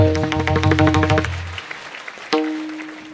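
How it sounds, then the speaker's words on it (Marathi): Clapping from a Ganesh festival kirtan audience for the Moriya Mitra Mandal, dense and rhythmic over sustained instrumental music for about a second and a half, then a quieter stretch with a single renewed musical note. "या मंडळासाठी एकदा जोरदार टाळ्या झाल्या पाहिजे"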